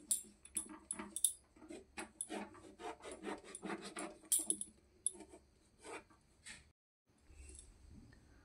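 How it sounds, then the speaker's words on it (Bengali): An eggplant being cut with a knife in a home kitchen while making litti chokha, heard as a series of close, crisp scraping and slicing strokes that go quiet near the end. "প্রথমে আমরা বেগুনটাকে কেটে নেব ঠিক এভাবে"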